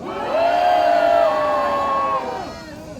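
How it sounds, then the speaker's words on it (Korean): A crowd at a civic group's press event shouts and cheers in encouragement for the group's leader, a loud sustained collective cry that swells, holds, and tapers off over about three seconds. "우리 모두 이근철 대표님께 격려 의 함성화를 힘차게 외쳐주시기 바랍니다."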